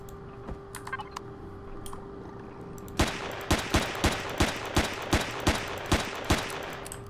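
A mounted gun placed as a defensive turret in the survival game Empyrion fires a steady series of about a dozen sharp, evenly spaced shots after a few faint clicks at the start, with no one talking.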